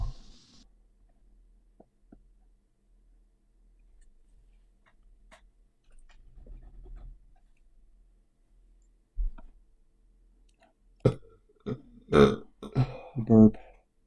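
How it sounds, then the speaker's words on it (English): A single audible burp rises out of near silence in a quiet scene, followed by a short run of clicking ticks, with a faint voice murmuring at times. "Burp."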